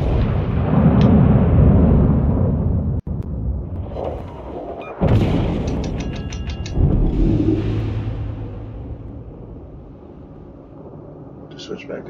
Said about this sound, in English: Three guns at once.